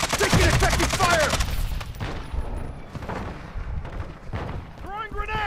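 Video game gunfire from Call of Duty: Modern Warfare II, with dense bursts of shots and explosive blasts mixed with voices during a chaotic firefight, loud and continuous throughout.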